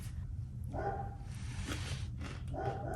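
Small chihuahuas barking from across the street, a few sharp yapping barks at a distance over steady indoor background hum.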